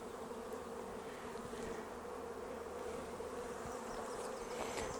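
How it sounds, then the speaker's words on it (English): Honeybees buzz steadily around opened backyard hives during an inspection, a dense, continuous drone close to the listener with a few louder passes of individual bees, no one speaking. "Bees are kind of mad over there a bit."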